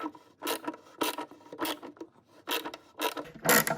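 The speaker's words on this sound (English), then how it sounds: "we'll just screw that in to pull the adjuster backward" A Renault Clio Sport 172/182 Mk2 headlight adjuster screw is driven in with a run of short, close ratcheting and grinding bursts that come roughly every half second at modest volume, with no voices.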